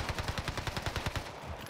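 Owen Gun submachine gun in Call of Duty Warzone on Rebirth Island fires a sustained automatic burst, rapid evenly spaced shots rattling close and loud for nearly two seconds with no talk.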